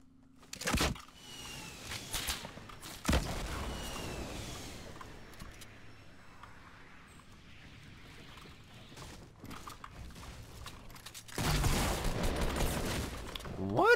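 Shotgun blasts in Fortnite battle royale gameplay, two sharp shots early, then a longer burst of gunfire near the end over a quiet background of game ambience and faint voices.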